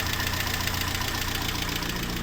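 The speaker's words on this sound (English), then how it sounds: "But it runs lovely, apart from the exhaust is blowing." A 1980 Mitsubishi L200 with the 4G32 engine runs at a steady idle, loud and close, with a rhythmic knocking pulse and the puffing rasp of a blowing exhaust throughout.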